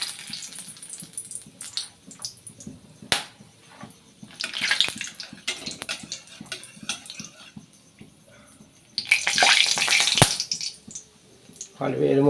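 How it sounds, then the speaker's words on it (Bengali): Bay leaves and whole garam masala spices hit hot oil in a pan, giving a close, crackling sizzle that swells in two louder bursts between quieter spatters. "তেলটা আমার গরম হয়ে গেছে, তেজপাতা আর গোটা গরম মশলা আমি দিয়ে দিচ্ছি।"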